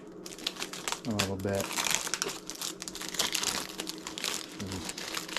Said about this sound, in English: Take some of this plastic protection. I'm just going to fold this back